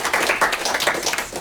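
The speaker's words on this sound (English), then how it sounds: "let's welcome Michael with a round of" Seminar audience applauds to welcome a speaker, with a brisk burst of many hands clapping close by in fairly loud, irregular rhythm.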